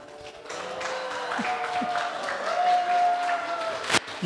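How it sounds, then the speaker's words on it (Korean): Church congregation at a Korean Sunday worship service clapping and cheering as a child's name is called, a moderate, continuous spread of applause with a few voices rising through it. "이름을 환호해 주세요."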